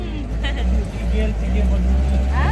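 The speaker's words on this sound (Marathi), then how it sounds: "आरामात चालली आहे रिक्षा एकदम" Auto rickshaw engine droning steadily and loudly while riding through Ahmednagar, a constant low rumble with road noise, and voices talking over it.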